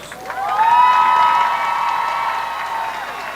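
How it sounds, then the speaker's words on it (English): Applause and cheering rise from the crowd at a high school graduation ceremony for the graduating students, with a loud burst that tapers to a sustained roar mixed with whoops and whistles. "Let's give these students a big round of applause."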